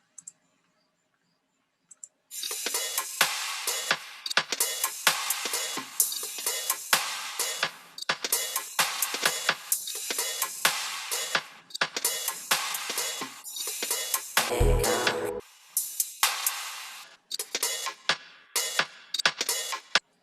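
Crisp, lo-fi drum loops layer together, a dry clicky pattern of hits and hi-hats repeating after a brief opening tick and short silence.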